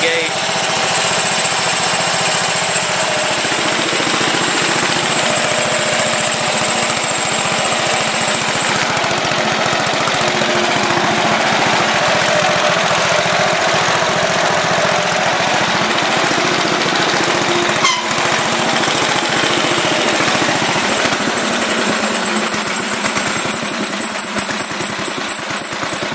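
Ariens rear-engine riding mower running steadily for the whole stretch, a continuous rough engine drone with a slightly uneven idle, close and loud, with some talking over it.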